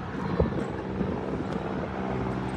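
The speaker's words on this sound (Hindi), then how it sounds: "भाई ला हेलीकॉप्टर की आवाज़ आ रही है" Helicopter flying somewhere overhead, heard from a rooftop as a faint, steady low rumble mixed with wind noise, with no talking.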